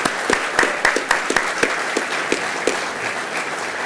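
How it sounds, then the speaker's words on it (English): Audience applause at an education foundation awards dinner, honoring a high school quartet: a smaller crowd clapping with distinct, separate claps standing out near the microphone, thinning out toward the end. "give a big round of applause to the Burncoat High School Quartet that entertained us in the cocktail hour"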